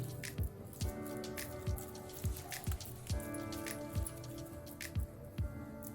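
Wet hands pat guava thalipeeth flatbread dough with soft wet slaps at a steady, even pace, roughly ten pats in six seconds, each a brief damp smack against a moist surface.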